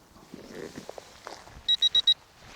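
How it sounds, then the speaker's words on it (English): A drone's handheld transmitter sounding a low-battery warning: four quick, evenly spaced high electronic beeps near the end, preceded by faint handling and footstep-like noises. "I'm getting a beep from the transmitter"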